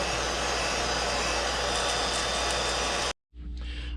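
A heat gun blasts hot air over freshly airbrushed paint on a trout fishing lure, a loud steady whooshing roar that cuts off abruptly near the end and then resumes.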